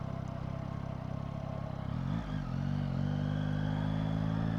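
A 2024 Yamaha MT-09 motorcycle on its stock exhaust, a steady deep engine drone up close that dips briefly as the rider shifts, then settles into a fuller, rising note.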